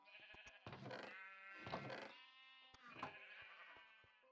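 Minecraft sheep on a farm bleat three times in drawn-out, quavering cries, fairly close, with small clicks between the calls.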